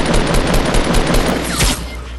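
Call of Duty gunfire rattles in a dense, loud burst of rapid automatic shots, fading slightly toward the end.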